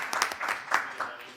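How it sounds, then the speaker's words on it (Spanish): An audience at a law-and-sport seminar on Olympic shooting applauds in a short burst of close, moderately loud clapping. "Sí, lo aplaudimos."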